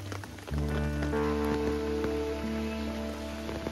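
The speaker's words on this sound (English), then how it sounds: "The rain here is like a marathon runner who slows down for a couple of seconds to take deep breath and then again starts long and hard run" Heavy rain pours steadily in the Western Ghats rainforest near Agumbe and Tirthahalli. It starts abruptly after a brief quieter moment and then holds a dense, loud, continuous wash to the end.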